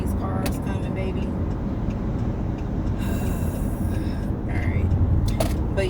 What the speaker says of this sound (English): You don't see all these cars coming, baby.